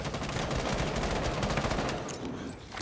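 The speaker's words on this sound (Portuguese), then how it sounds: "dá tiro nas costas dele, num bagulho vermelho que tem" Rapid bursts of gunfire from a zombie shooter game's outbreak mode, with sniper fire in the mix, crackle densely and loudly for nearly three seconds before easing off slightly at the end.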